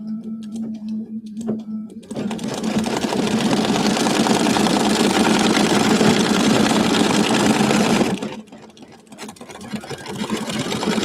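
An embroidery sewing machine stitches around lettering with a loud, steady rapid whir lasting several seconds, starting abruptly and cutting off, with quieter handling sounds before and after.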